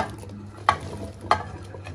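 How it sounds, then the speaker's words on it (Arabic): Zucchini and potatoes go into a pan of sizzling tomato sauce and are stirred, giving a soft steady sizzle broken by two short scraping stir sounds, close by with no talking. "اول حاجه هنا هنزل كده بالكوسه والبطاطس"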